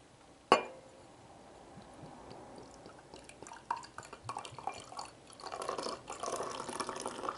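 German beer poured from a just-opened bottle into a glass, a sharp clink at the start followed by a steady, close foamy splashing and fizzing that builds toward the end.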